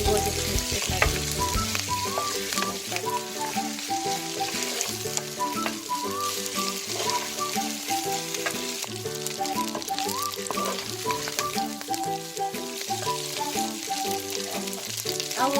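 Pasta tossed in tomato paste with parsley in a hot pan sizzles steadily and closely, with stirring scrapes throughout the Turkish-style dish and no talking.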